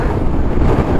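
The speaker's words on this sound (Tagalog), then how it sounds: "Grabe, sobrang lakas ng hangin ngayon dito." Strong wind gusts across a road in Ilocos Sur while riding a motorcycle, a loud low rumbling buffet against the microphone, dense and continuous for a brief moment.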